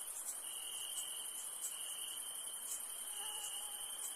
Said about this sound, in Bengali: ঝিঝি পোকা ডাকছে, বিদ্যুৎ চমকাচ্ছে দূরের আকাশে